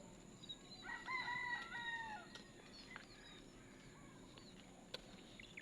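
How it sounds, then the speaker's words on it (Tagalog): A rooster crows once in the distance, a drawn-out call over steady outdoor background hiss, followed by quieter ambient noise. "Mga alaga nating manok."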